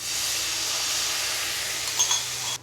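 Ground spice paste and its water hit a hot pan for Mughlai aloo dum, a loud continuous close hiss of steam and sizzling that cuts off abruptly, no talk.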